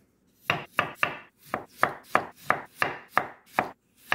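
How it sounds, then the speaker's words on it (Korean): Peeled cucumber is sliced with a knife on a cutting board, about a dozen crisp, evenly spaced chops close up, each with a short crunchy tail, alone without talking. "오이는 너무 두껍지 않게 썰어주세요"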